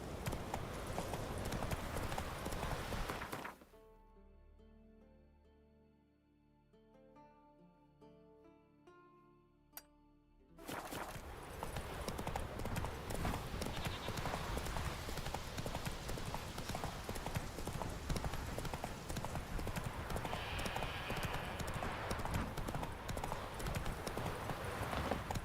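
Geralt's horse Roach galloping in The Witcher 3, rapid continuous hoofbeats that stop for several seconds of quiet music, then return loud and sustained for the rest of the stretch.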